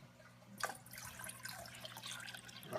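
Cold water poured from a cup into a mixture in a home kitchen, a soft continuous splashing and trickling with a brief louder splash at the start, close by and alone without talk.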